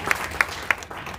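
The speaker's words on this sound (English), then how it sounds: "Sonia, you can clap for her so she relaxes." A small audience at a college information session gives brief, sparse applause: three distinct claps stand out over a soft patter that fades within about a second.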